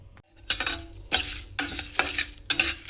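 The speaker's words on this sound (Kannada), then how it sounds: "ಸ್ವಲ್ಪ ಕೊಬ್ಬರಿ ಎಣ್ಣೆಗೆ ಜೀರಿಗೆ, ಮೆಂತ್ಯ, ಮೆಣಸು ಮತ್ತು ಕೊತ್ತಂಬರಿ ಬೀಜ ಹಾಗೂ ಕರಿಬೇವಿನ ಸೊಪ್ಪು ಇದನ್ನು ಹುರ್ಕೊಳ್ಳೋಣ" Cumin, fenugreek, pepper, coriander seeds and curry leaves roasting in coconut oil, sizzling softly as a spoon stirs and scrapes the pan in several distinct strokes, close up with no voices.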